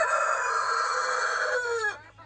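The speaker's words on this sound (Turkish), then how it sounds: "Horozları doldurdu annem buraya." A rooster crows loudly and close by, one long sustained call that breaks off into a short trailing cluck, set on a Trabzon farm crowded with roosters.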